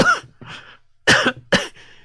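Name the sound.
coughing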